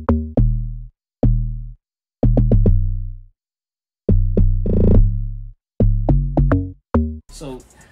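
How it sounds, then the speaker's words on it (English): Log drum from a log drum VST in an Afrobeat production, plucky pitched hits in short syncopated clusters separated by brief silences, close and clean, ending in a burst of brighter texture. "I got this VST called the log drum VST"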